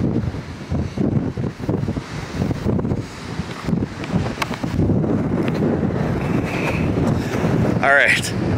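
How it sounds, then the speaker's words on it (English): Strong wind gusts roar and buffet the microphone continuously at an old castle site in Kansas, a loud, unbroken rush with brief voices and a faint squeak near the end. "as you guys can probably tell, it's incredibly windy"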